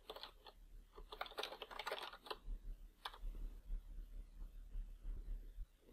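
Keys clatter on a computer keyboard as a pip install command is typed: quick bursts of clicks that speed up, then thin out into scattered taps, close and fairly quiet, with no one speaking.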